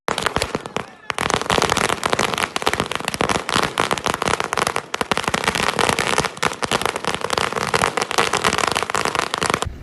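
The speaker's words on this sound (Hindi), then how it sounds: "कांग्रेस कायदीन और कारकुनान ने आतिशबाजी करते हुए जश्न मनाया" Dense, continuous crackle of firecrackers set off at a Congress party celebration at a camp office, rapid loud pops in an unbroken string lasting the whole stretch, with a brief gap near the start.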